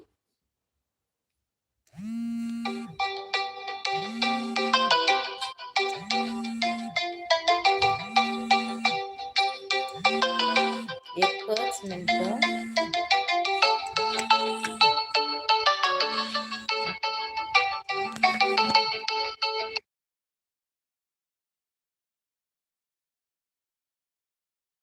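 An incoming call rings a phone's melodic ringtone loudly and close for nearly twenty seconds, a repeating tune with a steady pulsing beat, with a brief voice over it before it stops.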